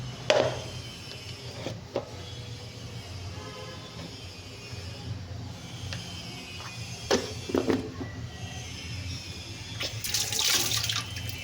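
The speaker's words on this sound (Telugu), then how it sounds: "2-3 సార్లు అయితే ఇలా క్లీన్ చేసుకోవాలి వాటర్లో వేసి దీన్ని" Goat head meat pieces being washed by hand in water, seasoned Telangana-style curry prep, with intermittent splashing and sloshing bursts over a steady low background hum; no talking.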